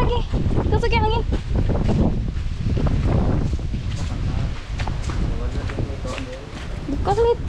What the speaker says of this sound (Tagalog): Kusag yung hangin